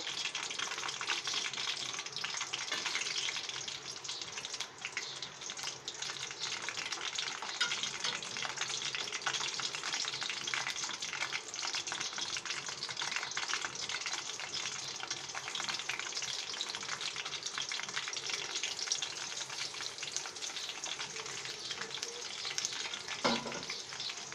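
Raw banana chips deep frying in hot oil, a steady dense sizzle and crackle that holds at an even, close, loud level throughout with no talk.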